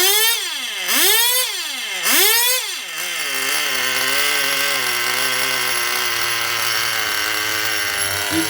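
A small two-stroke engine with a single-needle carburetor, long left sitting on a shelf, runs after tuning: two loud revs rise and fall, then it settles into a steady, buzzing idle close up with no talk.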